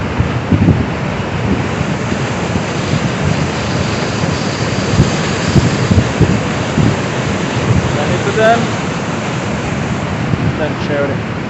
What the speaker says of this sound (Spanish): Allá va el río La Quebrada que pasa por acá. Es agua cristalina, fresca, pura